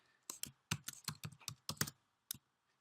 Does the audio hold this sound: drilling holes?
no